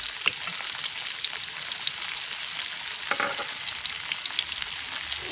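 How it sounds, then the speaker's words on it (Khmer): Tofu deep-frying in hot oil until firm and golden gives off a close, steady crackling sizzle with scattered sharper pops, continuous and fairly loud with no talking. "យើងជៀនតៅហ៊ូរបស់យើងហ្នឹងឲ្យវាឆ្អិនឲ្យវារឹងសាច់ហ្នឹង"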